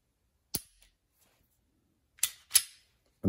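Dry-fire trigger clicks of a Smith & Wesson M&P Shield pistol: a few sharp, close metallic snaps, one alone and then a quick pair, with near silence between them.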